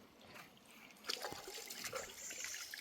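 Water is scooped up by hand to rinse the mouth, making a faint, close trickle and soft splashes that grow slightly busier partway through.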